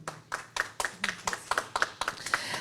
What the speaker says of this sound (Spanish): es la doctora Gloria Elizabeth Díaz Pérez, a quien recibimos con un fuerte aplauso, por favor.